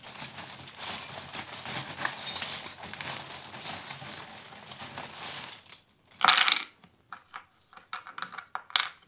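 Small metal charms are handled and picked up, giving a brief burst of bright clinking and jingling after a stretch of soft rustling, close to the listener, with no talk.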